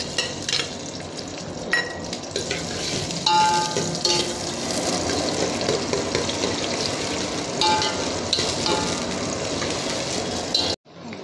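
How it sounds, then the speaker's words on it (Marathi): Sliced onion with a bay leaf fries in a generous amount of hot oil for a restaurant-style gravy, giving a steady loud sizzle with occasional stirring scrapes, ending in a brief cut. "आपला कांदा थोडा भाजत आलेला आहे."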